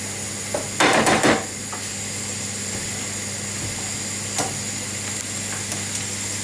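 Onions frying slowly in a pan until caramelised, a soft continuous sizzle under a brief burst of utensil clatter near the start and a couple of light knocks later.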